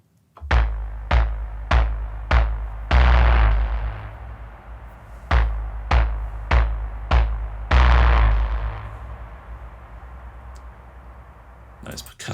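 Percussive atmospheric synth patch from the Zebra Apotheosis sound set: a run of sharp struck hits in two groups of four, each followed by a longer swelling chord with a reverberant tail, then a lingering airy wash fading out.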